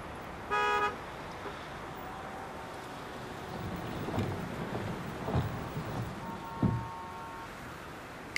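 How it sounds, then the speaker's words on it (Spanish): A car horn beeps briefly outside a hospital, a short tonal blast early on, then a second fainter honk later, over a rumbling, noisy street background with no talk. "¿Por qué pitas?"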